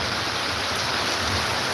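Heavy rain pours down steadily beside a house under construction, a dense, continuous hiss of water close by with no break or voices.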